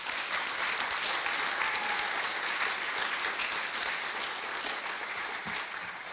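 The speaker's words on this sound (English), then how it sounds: "So we can get a round of applause, please." An audience at a county recreation and parks volunteer awards ceremony applauds steadily throughout, a thick, even wash of clapping with no talk over it.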